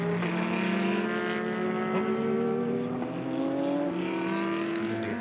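Porsche race cars at the Sepang 12 Hours endurance race, a loud sustained engine roar with rising pitch as cars come down into turn 1, steady and continuous at track distance.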